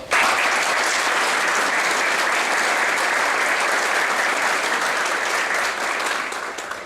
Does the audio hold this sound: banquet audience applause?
yes